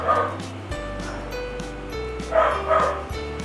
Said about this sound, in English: telling her to stop barking